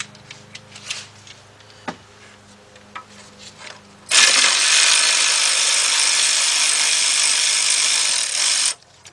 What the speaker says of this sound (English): I'm going to change over to my cordless ratchet with my 10mm deep